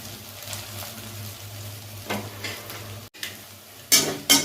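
Ginger garlic paste fries in a pan with a continuous sizzle, stirring scrapes, and louder bursts of spatter toward the end.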